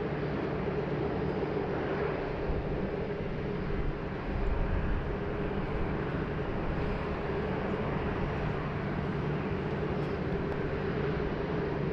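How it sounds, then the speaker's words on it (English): British Airways Boeing 787 taking off from runway 16 right at Sydney Airport, a steady broad jet engine roar, distant and even, holding at a constant level throughout with no voices. "there's a Speedbird British Airways 787. He will be taking off very shortly on 16 right"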